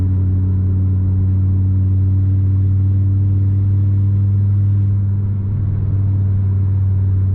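Inside a 2019 Audi RS3, the engine hums loud and steady as it accelerates, its drone easing briefly as the transmission shifts gears before settling back.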